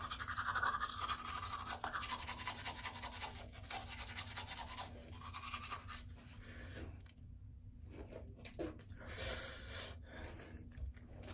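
Toothbrush scrubbing teeth with toothpaste, close and wet, with rhythmic brushing strokes that fade into quieter gaps and breathy sounds near the end.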